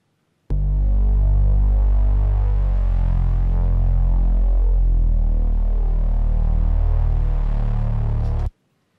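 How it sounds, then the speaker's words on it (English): A saw-based reese bass synth from a song verse breakdown, a thick, throbbing low drone that sustains steadily for about eight seconds, loud and alone with no voice over it. "I have this sort of saw breakdown, reese sort of bass sound, which sounds like this."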